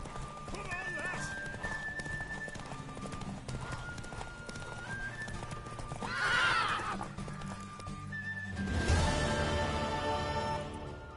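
Horse neighs and hoof clip-clops in The Witcher 3 during a mare race, a whinny bursting out around the middle and another near the end over steady galloping hooves, with game voices talking throughout.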